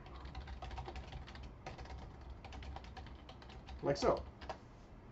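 Rapid clicking of computer keyboard keys as text is typed into a OneNote page, steady and close, with a short stretch of speech partway through.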